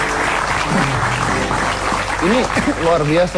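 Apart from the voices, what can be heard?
applause from studio audience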